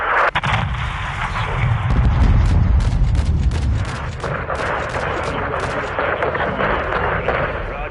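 A missile strike in Call of Duty Modern Warfare 2 lands as a heavy, loud blast, its deep rumble swelling and rolling on under continuous battle noise and scattered crackling gunfire.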